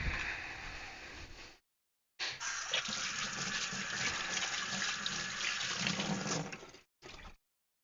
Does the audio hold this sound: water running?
yes